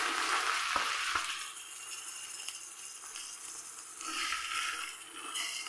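Washed rice fries in oil in a pan for chicken mandi, a soft continuous sizzle with occasional stirring scrapes and a couple of light knocks near the start.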